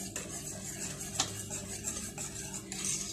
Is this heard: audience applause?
no